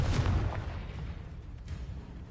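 In Hogwarts Legacy, the Confringo fire spell goes off as a single fiery explosion. It hits with a heavy, booming burst at the start, then a rumbling crackle that fades over a couple of seconds.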